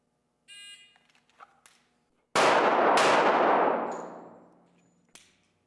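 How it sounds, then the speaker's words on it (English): A short, harsh electronic start buzzer sounds on an IDPA shooting range, followed by a couple of faint clicks and then a very loud, sharp blast that rings out and decays slowly, with a second sharp crack just after. "I'm going to push the buzzer"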